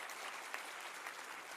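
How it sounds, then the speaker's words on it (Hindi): Audience applause at a Hindi language festival ceremony, a dense continuous roar of many hands clapping, even and unbroken but distant and faint. "जब संख्या 309 विद्यालय की हो तो तालियों की गूंज भी उसी स्तर की होनी चाहिए।"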